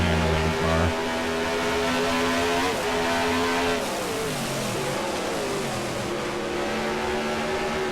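A late model race car engine in NASCAR Racing 2003 at Bristol Motor Speedway roars steadily with a droning, slightly shifting pitch, dipping and climbing as it changes gear, loud and close.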